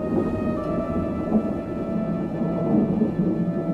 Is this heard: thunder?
yes